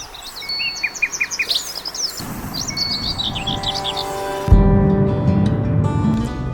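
A songbird sings close by in a rapid series of bright chirping phrases, then drops out as a louder low rumble and other noise take over.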